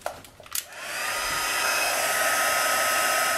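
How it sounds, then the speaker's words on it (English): A heat tool blows hot air over stamped cardstock to set embossing powder, starting after a couple of taps and rising into a steady, loud, close hiss and fan whine that holds to the end. "I'll heat them with my heat tool quickly to emboss that"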